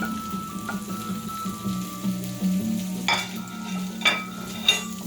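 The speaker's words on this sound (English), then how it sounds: "now I'm going to put the andouille sausage back in the pot and get that cooking" Andouille sausage sizzles in a chili pot as a steady frying hiss with a low hum, and sharper stirring scrapes and clatter come from around three seconds on.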